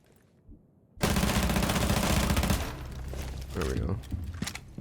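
Sustained automatic rifle fire in Rainbow Six Siege erupts abruptly and rattles loud and continuous for over a second, then tapers into scattered shots and debris clatter.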